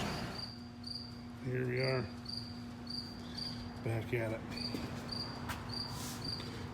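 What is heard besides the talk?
crickets chirping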